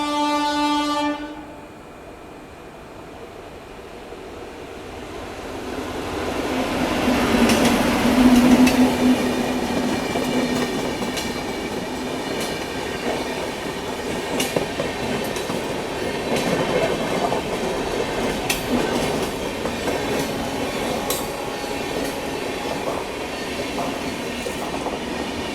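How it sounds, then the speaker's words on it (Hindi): The LTT Banaras Superfast passenger train overtakes on a neighbouring track in India, its horn sounding loudly near the start, followed by a long rushing rumble and rhythmic clickety-clack of wheels that swells and holds as it passes close by. "अभी अपनी ट्रेन को ओवरटेक करने आ रही है LTT बनारस सुपरफास्ट"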